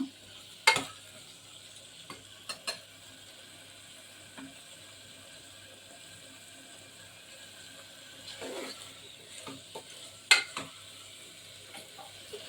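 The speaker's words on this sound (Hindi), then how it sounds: "ऐसे ही थोड़ा हम भून लेंगे ताकि इनमें मसाले लग जाएं अच्छी तरह से।" Whole moong beans roasting with spices in a pan, a soft ongoing sizzle punctuated by several sharp scraping stirs of a spoon against the pan, with no one talking.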